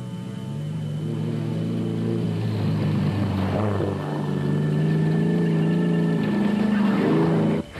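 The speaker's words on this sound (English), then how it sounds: "Some of the faster specials streaked past some of the production cars on the straights." Fast racing specials streak past slower production cars along a straight during the Rustenburg 200 circuit race, a loud, continuous engine drone with rising and falling pitch as the cars sweep by, steady throughout with no talk.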